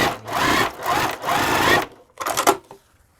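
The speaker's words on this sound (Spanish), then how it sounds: "y continúo cosiendo" A sewing machine runs in three bursts of stitching as patchwork quilt pieces for a kaleidoscope-pattern baby quilt are fed through, loud and close, with a short pause before the last burst.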